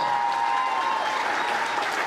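Warm audience applause at an outdoor community annual picnic, a steady dense clapping that fills the whole stretch at an even, fairly loud level without a break.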